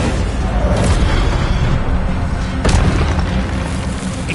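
Incendio fire spell in Hogwarts Legacy: a loud, sustained roaring whoosh of flame with a booming low rumble throughout, plus a sharper burst flaring near the middle.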